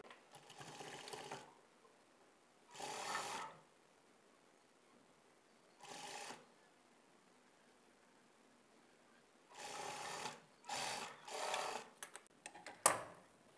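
Short bursts of a sewing machine stitching a folded hem on blouse cloth, several separate runs with quiet pauses between, the later ones closer together and ending in a sharp click.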